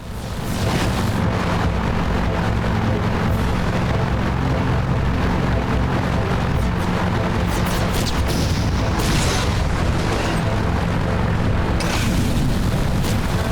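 Mortar explosions in the video game Jak 3, a dense, continuous rumble of loud booms and blasts that fills the whole stretch without pause.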